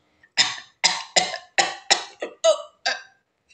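A man coughs and chokes after a biscuit is pushed into his open mouth, giving about eight loud, close hacking bursts in an uneven rhythm with no talk over them.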